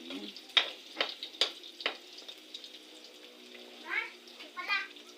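Onion and garlic sauté in a pan with a faint sizzle and a few sharp utensil clicks from stirring, followed by brief nearby voices.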